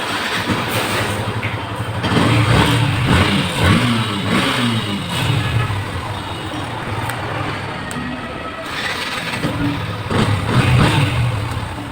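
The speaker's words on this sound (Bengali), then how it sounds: "দেখুন, আমরা বাইকটা এখন স্টার্ট দিতেছি, প্রতিটা টোকায় টোকায় স্টার্ট হবে, খেয়াল করুন।" A Yamaha FZ V2 motorcycle, just repaired after a faulty starter relay, starts and runs with a loud, steady engine note and swells of revving, close by, with no talking.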